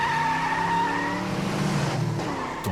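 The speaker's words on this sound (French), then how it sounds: "La puissance de ma voiture se déchaîna, faisant crisser les pneus sur le bitume" Car tires squeal on asphalt in a sound effect, a loud sustained screech over a revving engine that fades slightly near the end, with no voices.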